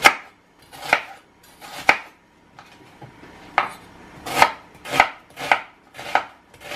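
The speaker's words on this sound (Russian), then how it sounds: "Лук я режу довольно мелким кубиком." A knife chops onion into small cubes on a cutting board, sharp evenly spaced strikes about twice a second, close and clear with short quiet gaps.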